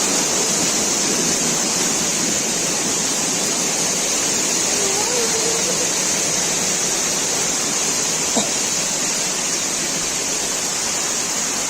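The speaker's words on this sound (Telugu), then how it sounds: "సో పదండి మీకు కింద ఈ వాటర్ ఫాల్స్ అనేది ఎలా వస్తుందో చూపిస్తాను" A waterfall at Sri Amara Lingeshwara Swamy Kona near Tirupati roars with a steady, dense rush of falling water that never lets up, loud and close throughout.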